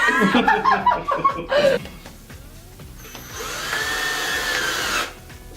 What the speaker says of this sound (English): all you do is screw a screw right into the center of the hole